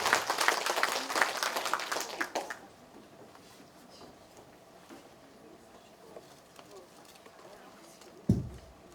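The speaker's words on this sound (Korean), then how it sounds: "큰 박수 부탁드립니다" Audience at a lifelong learning center lecture breaks into a short burst of clapping that lasts about two seconds, then fades to a quiet room with only faint shuffling and a soft thump near the end.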